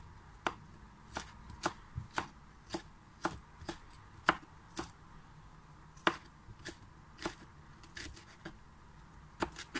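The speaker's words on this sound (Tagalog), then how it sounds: "saka po natin isunod na hiwain ang ating ginger" Knife chopping ginger into strips on a cutting board, crisp evenly spaced chops repeating about every half second, close and clear with no talking.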